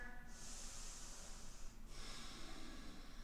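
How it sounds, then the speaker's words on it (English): Slow, deep breaths during a gentle wrist-free yoga flow, two long airy exhales one after the other, close and soft over a quiet steady background. "So a couple of big breaths here"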